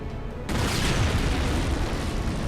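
Covenant Lich ship exploding in Halo 4: a loud, sudden deep boom bursts in after a brief quieter start, then sustains as a dense, rumbling roar through the rest of the clip.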